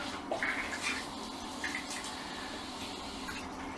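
A DeerValley DV-1S0029-V3 smart toilet flushing, a steady rush of running water with brief gurgles near the start, moderately quiet and alone.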